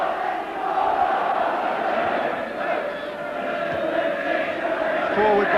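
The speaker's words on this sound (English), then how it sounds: "Just look at that crowd." A large football crowd roars steadily in the stadium at an Oxford United versus Everton match in January 1984, a dense sustained chant and din from many voices with a commentator's voice over it.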